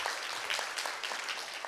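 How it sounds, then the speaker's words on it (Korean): Applause from a policy forum audience on child care in Daejeon, a dense steady patter of many hands clapping at moderate, even loudness with no voices. "큰 박수로 맞이해 주시죠"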